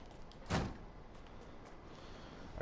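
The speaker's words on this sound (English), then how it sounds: "I heard a trunk fall open" In a Fortnite horror map, a car trunk falls open with a single short thud-like clunk near the start, then a quiet, empty ambience follows.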